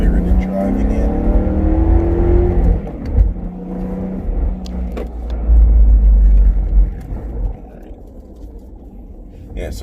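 BMW E92 M3 engine under spirited driving, a loud, steady in-cabin drone that rises and falls in pitch as it revs, with a brief lift around the middle before pulling again.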